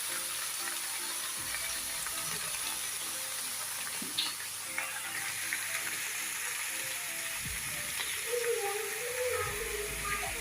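Dal with onion leaves cooking in a pan gives a faint, steady sizzle and bubbling, with a few soft clinks and stirring sounds near the end.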